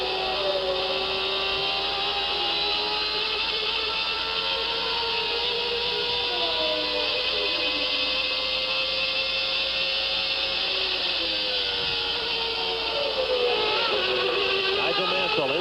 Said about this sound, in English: Let's listen to the sounds of the engine as he tries to make up ground.